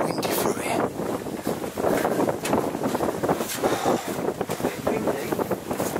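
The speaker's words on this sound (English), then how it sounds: "it's so windy through here" Wind gusts through a tunnel passage beneath a historic castle, a steady rushing roar that buffets the microphone throughout, swelling and easing without pause.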